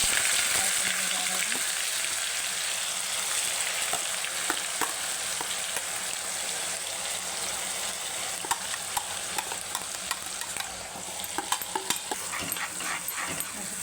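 Onion paste with cumin and mustard seeds fries in hot oil while being stirred toward browning: a dense, steady sizzle runs throughout, punctuated by light scraping strokes of the spoon.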